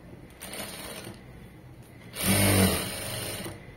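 A sewing machine running short stitches on fabric, with a quiet whirring start followed by a louder, denser burst of rapid needle chatter near the end, heard close with no talking.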